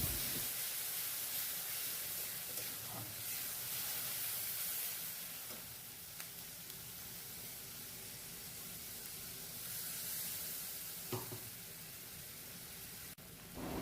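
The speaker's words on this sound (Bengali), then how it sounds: "এবার এই মাছ ভাজার তেলটা যে আছে ওর মধ্যে দিয়ে দিলাম বেটে রাখা মশলাটা।" Ground spice paste frying in leftover oil from frying puti fish: a soft, steady sizzle runs throughout with a few faint pops and ticks, fairly quiet and without talk.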